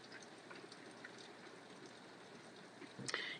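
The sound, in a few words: rain falling outside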